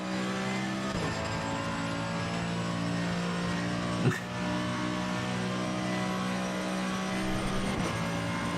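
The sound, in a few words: car engine while driving in a racing video game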